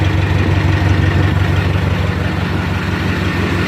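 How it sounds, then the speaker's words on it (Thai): A heavy diesel engine of a used six-wheel truck idles steadily with a low, even rumble and rhythmic chugging, close and continuous with no voices. "เดินเบาไม่ควันนะครับเนี่ย"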